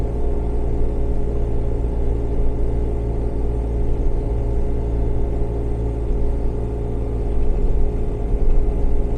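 A 2014 Bobcat Toolcat utility machine idling at about 1,600 RPM while pushing through a snow drift at roughly 5.6 mph, giving a steady, close engine rumble and whir that stays even throughout with no talking.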